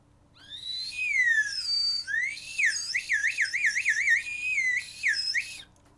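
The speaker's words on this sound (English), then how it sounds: "Oh hey, a slide whistle." A slide whistle glides up and down, with quick wavering warbles in the middle and a final rising swoop, played alone.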